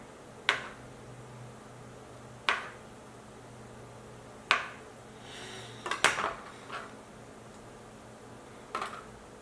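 A small knife slices through a banana and taps against the surface below, giving sharp single knocks about every two seconds and a brief cluster of clicks partway through, close and fairly quiet.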